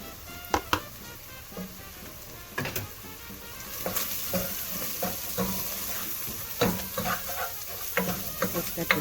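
Spices, onion, celery, bell pepper and bacon sizzle and fry in a pan for Creole chicken and andouille jambalaya, a steady close crackle broken by sharp scraping knocks of a spoon stirring.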